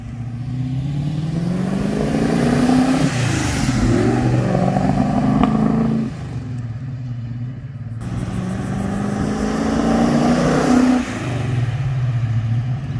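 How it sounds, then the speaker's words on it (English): A big V8 in a 1971 Ford Falcon XY GT replica burbles loudly up close, rising through two revving sweeps that climb, drop back, then build again before easing off, with no voices heard. "into the beautiful burble of these big GTs"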